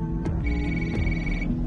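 A payphone rings in a crime TV drama, an electronic tone ringing steadily for about a second over a dense background of music and room noise.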